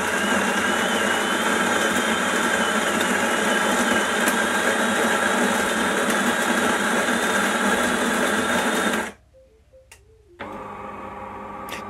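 A DeLonghi coffee machine grinds and brews a normal coffee, a loud steady mechanical whir running close for about nine seconds, then cutting out briefly before a quieter hum resumes.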